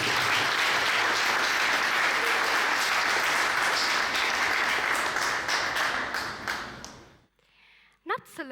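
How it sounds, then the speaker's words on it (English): Loud, dense audience applause at a TEDEd club student talk show in Turin, sustained for about seven seconds before cutting off abruptly, followed by a brief voice. "let's give her a nice applause, Ludovica."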